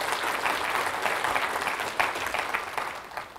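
A church congregation claps together in praise, producing dense, sustained applause that holds steady for a few seconds with no voices rising over it.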